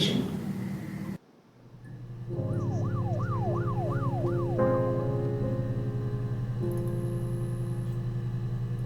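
Electronic sirens in the video game Her Story wail in rising and falling sweeps over a steady low engine-like drone, loud and continuous, with a high tone joining near the end.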